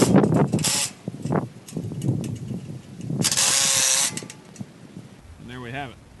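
An impact wrench with a half-inch deep well socket hammers down auger bolts in short bursts, close and loud, with a longer rattling run midway and someone speaking between bursts.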